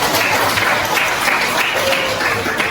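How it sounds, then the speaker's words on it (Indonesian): A crowd applauds steadily and loudly throughout, a dense wash of clapping with no pause. "tepuk tangan dulu buat kita"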